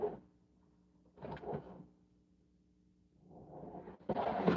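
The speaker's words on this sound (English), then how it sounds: "It'll be the last drawer I open." A drawer of sewing supplies slides open with a few short scraping rumbles separated by quiet gaps, ending in a louder clatter of contents, heard close with no talk.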